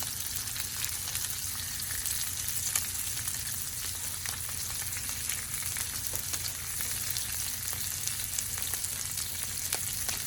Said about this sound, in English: If you can get this tail in the oil and super crispy, it's like a potato chip.